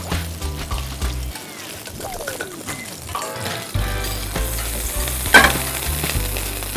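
Food frying in hot oil in a pot, stirred with a wooden spoon, gives loud continuous sizzling and crackling with bursts of splashing where water hits the oil.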